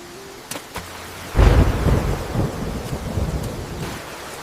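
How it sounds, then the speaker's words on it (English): A thunderstorm over a forest brings a sudden loud crack and deep rolling rumble of thunder, with rain hissing steadily underneath as the boom fades into lighter rumbles. "came a few drops, and then the rain began to fall harder"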